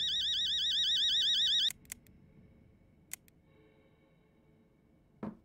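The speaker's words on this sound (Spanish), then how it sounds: "¿La alarma?" A warbling electronic alarm in the horror game Fears to Fathom: Home Alone blares loudly for under two seconds and cuts off abruptly, followed by a few sharp clicks and a quiet room tone.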